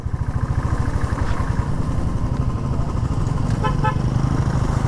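A long line of stalled vehicles in a traffic jam on NH10 between Sikkim and Sevoke, with a close motorcycle engine throbbing steadily and repeated car horns honking in short bursts nearby.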